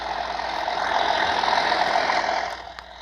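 A bus engine idles in the Indonesian bus-driving game, a steady mid-pitched drone that holds level for about two and a half seconds, then drops a little softer near the end.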